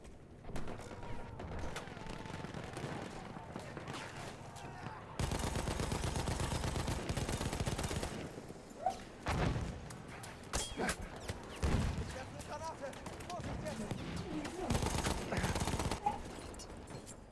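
Gunfire in the video game Battlefield 1: sustained bursts of automatic fire and heavy shots roll on loudly throughout, with clanging impacts and thuds mixed in and occasional voices beneath.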